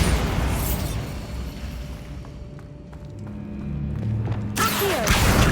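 A Bombarda spell blasting stacked bones in Hogwarts Legacy, a deep booming burst with rumbling debris that comes after a quieter stretch of ambience.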